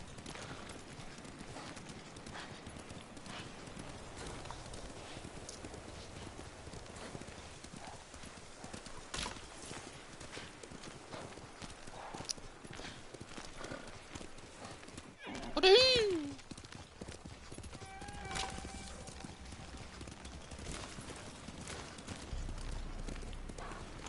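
A horse ridden in the Ghost of Tsushima video game clip-clops in a steady rhythm throughout. A short whinny rises briefly above the hoofbeats midway.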